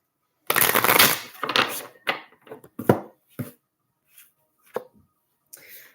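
Tarot cards being shuffled by hand, a run of crisp close riffling and slapping bursts of varied length separated by short pauses, growing sparser toward the end, with no talking.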